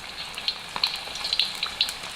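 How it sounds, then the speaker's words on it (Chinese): Chicken pieces deep-frying in hot oil give a steady, close sizzle with scattered crackles and pops over roughly two seconds, alone with no voices. "炸鸡块"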